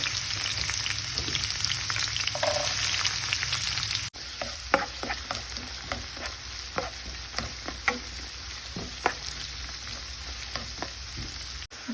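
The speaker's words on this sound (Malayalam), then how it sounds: "നമ്മുടെ വെളിച്ചെണ്ണ റെഡി ആയിട്ടുണ്ട് അതിനകത്തേക്ക് ഞാൻ ഒരു സവോള കുരുകുരുന്ന് അരിഞ്ഞിട്ട് വെച്ചതുപോലെ" Chopped onion frying in hot coconut oil, a loud continuous sizzle with scattered crackles and pops, and a spoon clicking and stirring through the pan in the second half.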